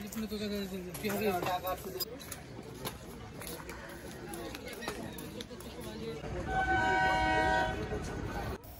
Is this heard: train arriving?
yes